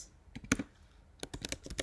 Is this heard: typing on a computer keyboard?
yes